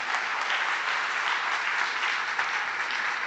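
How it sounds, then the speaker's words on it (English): Dense, steady audience applause at a day-long organisational event, a continuous wash of many hands clapping at even loudness throughout with no voices over it. "so you have applauded before I had to finish my line"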